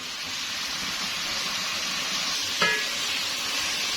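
Chicken frying in a pan gives a steady, even sizzle throughout, close and moderately loud, broken once by a short sharp click of a utensil; no one speaks.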